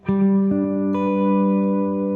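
Spread triad built off the octave of G picked on guitar, three clean notes entering one after another and ringing together, sustaining loud and close with no talk.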